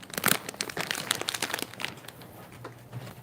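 Someone struggles to tear open a crinkly plastic bag, producing dense, loud crackling and crumpling bursts close up that thin out toward the end, with no talking.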